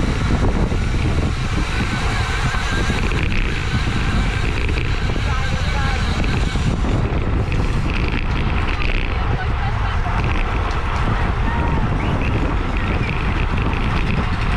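Heavy, constant wind roar buffets the microphone of a rider during a Category 4 criterium bicycle race in Lombard, Chicago, a loud, unbroken rushing noise that dominates throughout.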